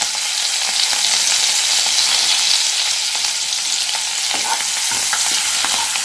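Coriander leaves hiss and crackle in hot oil while being stirred, with scattered scrapes from a spoon over a steady loud sizzle throughout, made in a kitchen for Maharashtrian vada pav filling along with chopped curry leaves.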